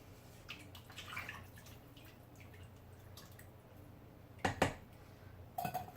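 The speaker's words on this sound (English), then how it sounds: "give it a good stir so all those seasonings and yumminess get evenly throughout the pot" A spoon stirs chicken stew in a pot, with faint scraping and scattered soft clinks against the metal, then a few sharper clanks near the end, all quiet with no talking.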